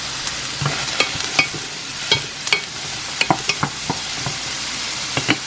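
Pork sautés with onions in oil, a close, continuous hiss with scattered spatula scrapes and taps against the pan at an uneven rhythm.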